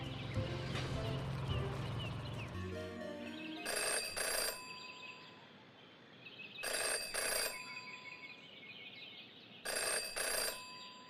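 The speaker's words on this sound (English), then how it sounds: "never to ignore a ringing phone" A telephone rings in short repeated bursts, three clear electronic rings spaced a few seconds apart, loud and close, following a brief stretch of other sound, with no talking.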